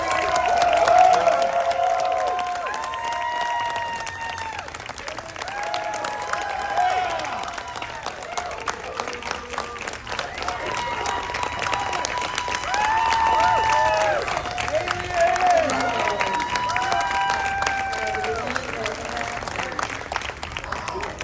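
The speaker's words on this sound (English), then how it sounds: "We're gonna have more applause. You better make it louder." A convention panel audience applauds and cheers steadily for a long stretch, with shrill whistles cutting through the sustained clapping.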